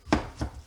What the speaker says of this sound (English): What I do is I cut it in